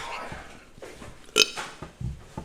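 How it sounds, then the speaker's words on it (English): A loud, brief burp from a man during a casual podcast recording after a Dr Pepper challenge, close to the mic, with faint background noise and other short bursts around it. "Please stop burping."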